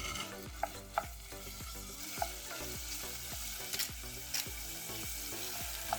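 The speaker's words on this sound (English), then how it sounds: "put 1 teaspoon of cooking oil and 1 teaspoon of sesame oil. And add the beef and stir fry it" Beef stir-fried in a pan with cooking oil and sesame oil over medium-high heat for Korean beef and radish soup, giving a steady close sizzle broken by repeated scraping stir strokes, with no talking.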